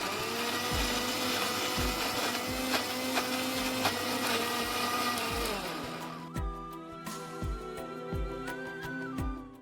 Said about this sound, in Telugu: కొన్ని నీళ్లు పోసి మెత్తగా గ్రైండ్ చేసుకుందాం